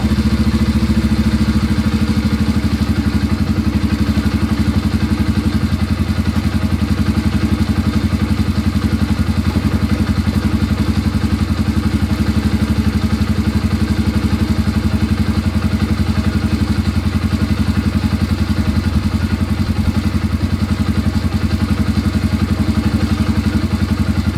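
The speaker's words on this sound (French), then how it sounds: "Maintenant, j'ai l'impression qu'elle tient mieux le ralenti qu'avant." A quad ATV engine idles after an oil change, running with a loud, steady, continuous rumble close by and holding an even idle for the full stretch, with no talking.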